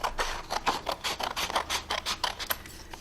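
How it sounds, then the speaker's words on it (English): Paper sentence strips being cut with scissors, a quick series of crisp snips and rustling paper at close range with no speech. "what I'm going to do is cut out these sentences for you"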